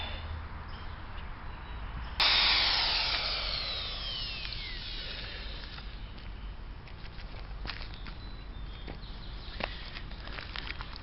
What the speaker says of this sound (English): And that's how we drill some holes.